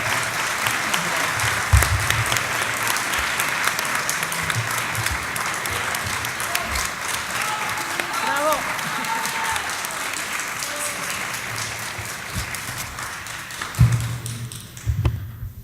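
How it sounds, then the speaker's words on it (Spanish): An audience at a Bolivian legislative women's event breaks into sustained applause, dense steady clapping that fills the room for most of the stretch before fading out near the end, with some voices mixed in. "Un aplauso para ustedes"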